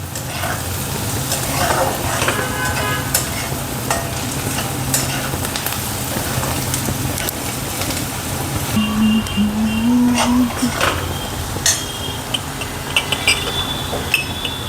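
Onion frying in a pan until pinkish for a taroty vegetable dish, a long, steady sizzle with frequent clinks and scrapes of stirring, close and fairly loud, with faint background noise.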